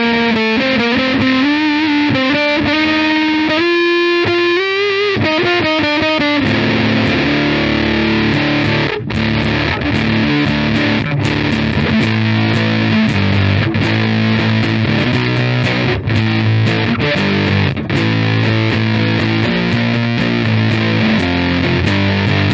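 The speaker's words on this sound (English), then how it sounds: "Fuzz face has a great sound." Electric guitar through a Fuzz Face pedal, heavily fuzzed, plays loud and sustained, starting with held notes and moving into busy choppy riffs, with no talking.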